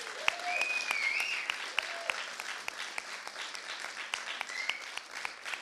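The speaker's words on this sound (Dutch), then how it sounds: "een hele warm applaus van geven" Warm applause for a volunteer team at a neighbourhood film festival opening in Amsterdam, steady clapping of modest loudness with scattered sharper claps and a few voices calling out over it.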